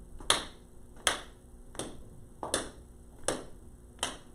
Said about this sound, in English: let's clap the rhythm